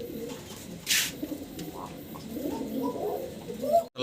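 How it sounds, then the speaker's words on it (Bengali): A pair of white fancy pigeons coo in low, repeated throaty phrases at close range, with a brief sharp rustle near the start. "ভিডিও স্ক্রিনে দর্শক এক পেয়ার সাদা শৌকিং কবুতর দেখতেছেন আপনারা"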